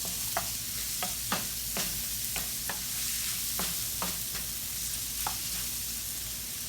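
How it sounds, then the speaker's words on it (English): Onions sautéing in a pan for stuffed pork chops make a steady, even sizzle, with regular sharp taps and scrapes of a utensil stirring through it, close up and without talk. "So I got my onions in here, all that good flavor in there with the onions."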